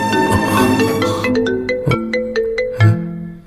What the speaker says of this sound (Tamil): சங்கவி கால் பண்றா.